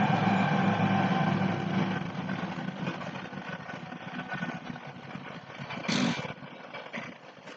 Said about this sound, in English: Sorry, train.